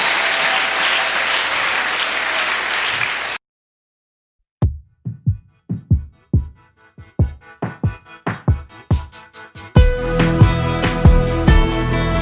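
A church congregation applauds and cheers for the king, with a loud dense wash of clapping. A sudden silence follows, then rhythmic beats build into a loud full sound at the end.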